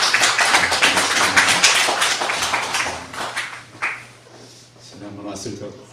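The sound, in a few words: audience applause welcoming missionaries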